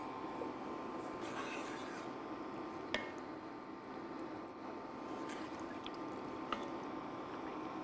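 Soft, wet squishing and occasional light spoon clicks as beef broth and shredded cheddar cheese are stirred into a keto bacon cheeseburger soup, quiet and close with no talk.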